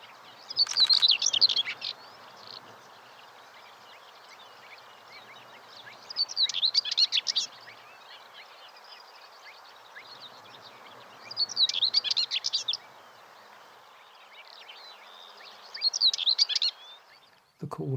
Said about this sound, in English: The call of the whitethroat is certainly not as rich and elaborate as some of the other warblers